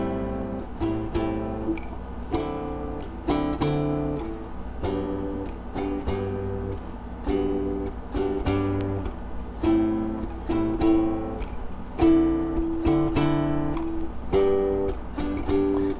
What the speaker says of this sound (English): And so the whole thing sounds like this.